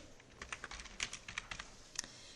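Quiet typing on a computer keyboard, a loose run of separate close keystrokes and clicks at uneven intervals, with no voices.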